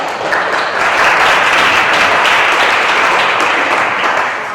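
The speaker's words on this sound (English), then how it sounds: "giving them a round of applause" Audience at a school board meeting in Kansas City gives a full round of applause, loud, dense and sustained, swelling and then fading slightly near the end.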